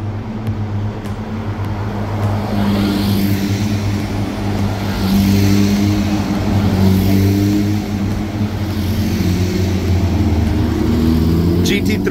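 Porsche GT3 race cars on a track roar past in a continuous, loud engine drone with rising and shifting harmonic tones as the cars approach and go by, heard from trackside.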